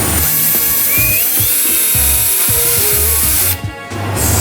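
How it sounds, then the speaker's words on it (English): A small power drill with a tiny bit whines loudly and steadily up close, with shifting pitch and grinding texture, then briefly cuts out before starting again near the end. "you could just drill those"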